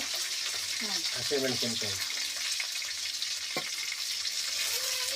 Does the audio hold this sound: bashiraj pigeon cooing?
no